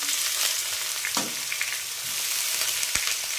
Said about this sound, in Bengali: দিয়ে এগুলোকে একটু ভেজে নেবো